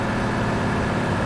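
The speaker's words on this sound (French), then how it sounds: "je suis en train de forcer sur le moteur." Heavy truck engine labouring under load in Euro Truck Simulator 2, a steady low rumbling drone with no break, held at a constant loud level throughout the short stretch.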